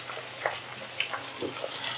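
Sliced tomato fries with onions in a pan, a soft, steady sizzle with faint crackles and pops, quiet and close.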